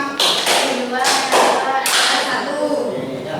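Students in a vocational-school math class clap a counted five-beat pattern together, several loud, sharp bursts of group clapping in quick succession, close in a reverberant classroom.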